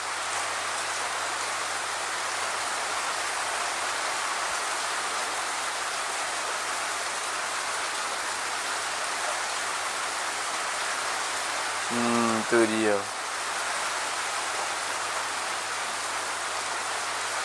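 Steady rain falls throughout, a constant broadband hiss with a low hum beneath, while a brief voice speaks near the end.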